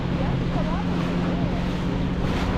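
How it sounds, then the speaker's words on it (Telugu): A speedboat engine drones on the backwaters around Alleppey, a steady low rumble mixed with wind and water noise, while people talk over it. "This is speedboat power."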